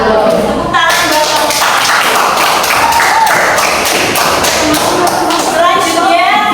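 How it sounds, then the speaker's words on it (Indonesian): Clapping for a group of presenters in a classroom session, a dense run of hand claps under a voice, steady and fairly loud throughout. "Tepuk tangan buat"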